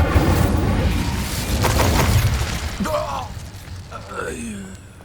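Incendio fire spell cast in Hogwarts Legacy, a burst of flame and impact effects over a low rumbling game soundtrack, with a voice calling out the spell during the cast and short whooshing tones trailing after.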